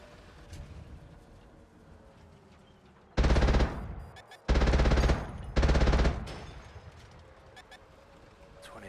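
Three short, loud machine gun bursts in World of Tanks Modern Armor, spaced about a second apart over a quiet background rumble.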